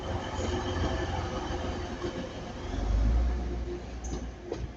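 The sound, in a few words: TransPennine Class 185 train passing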